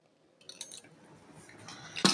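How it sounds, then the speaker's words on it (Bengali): A pressure cooker lid is set in place with soft metallic clinks and scrapes, faint and close, ending in one louder clank. "আমি প্রেসার কুকারের ঢাকনাতে ঢেকে দেব"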